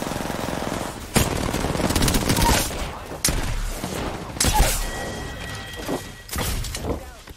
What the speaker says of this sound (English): Getting shot by another two.